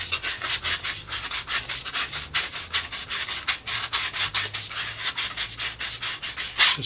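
Sandpaper rubs back and forth on a plastic cowl ring for a Warbirds Replicas FW190 model, a steady run of quick, close, rhythmic scratchy strokes with no talking.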